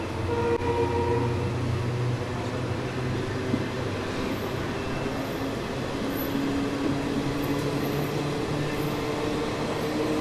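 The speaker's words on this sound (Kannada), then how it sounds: "ಸದ್ಯಕ್ಕೆ ನಮ್ಮ ಟ್ರೈನ್ ತಲುಪಿದೆ ಗೊಲ್ಲಲ್ಲಿ ರೈಲ್ವೆ ಸ್ಟೇಷನ್ಗೆ" A train rolls into Gollahalli railway station, its steady rumble and clatter of wagons carrying on for ten seconds with faint high squeals near the end.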